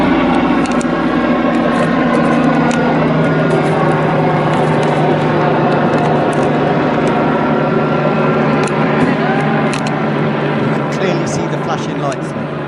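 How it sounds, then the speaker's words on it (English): A helicopter flies overhead in a no-fly zone, its loud, droning rotor and engine roar steady and close throughout, while people talk over it. "listen to how loud this helicopter is."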